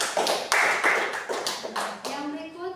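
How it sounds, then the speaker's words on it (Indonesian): A small group of children claps for their classmates' group after a classroom presentation, giving a few uneven, close handclaps followed by a voice trailing off at the end. "tepuk tangan untuk kelompok 2"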